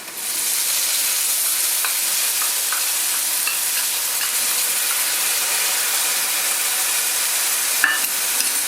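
Browned onions sizzle hard in a pan as garlic paste is added, making a loud, dense, unbroken frying hiss close by, with occasional light scrapes of stirring near the end.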